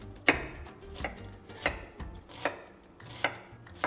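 A knife chops red onion on a board in sharp, evenly spaced strikes, about one every three-quarters of a second, close and clear against a quiet background with no talking.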